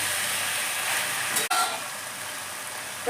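Mixed vegetables, fried eggplant and a fried fish head are stirred in a pan with a steady sizzle, one sharp scrape or knock midway, and another utensil scrape at the end.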